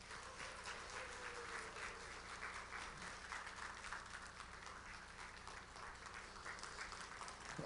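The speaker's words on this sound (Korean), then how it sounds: "여러분 나오실 때 정말 뜨거운 박수로 한번 환영했으면 좋겠습니다." An audience at a leadership seminar claps to welcome a pastor to the stage. The applause is faint and distant, a continuous spread of many hands that holds steady throughout.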